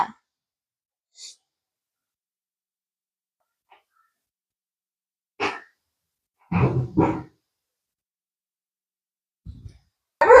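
A dog gives a few short, sharp barks, two in quick succession, separated by stretches of silence.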